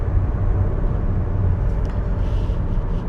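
Inside a 2017 Kia Soul EV with a 33 kWh battery cruising at 90 on cruise control, a steady, loud road and tyre rumble fills the cabin with a faint whoosh of passing air.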